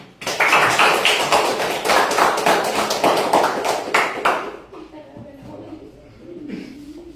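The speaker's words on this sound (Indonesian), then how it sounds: "Coba kita beri tepuk tangan." Schoolchildren in a classroom clap together in a loud, quick burst of applause lasting about four seconds, then it stops abruptly and leaves only faint room noise.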